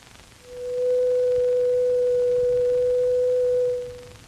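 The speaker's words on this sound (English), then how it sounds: "This simple 500 cycle tone can be represented mathematically by a sine wave." A steady 500-cycle sine-wave test tone holds at one pure pitch for about three seconds, fading in and out smoothly over a faint background hiss.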